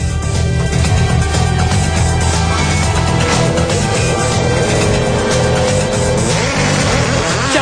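A Mercedes CLK DTM race car engine revs loudly and steadily on the grid, a dense, sustained roar with no talk over it.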